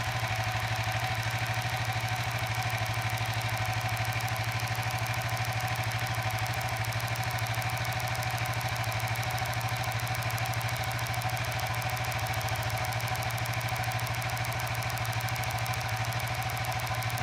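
A Suzuki FU 150 fuel-injected motorcycle engine idles steadily and evenly at close range, a continuous mid-pitched putter with a fine ticking rhythm and no change in speed.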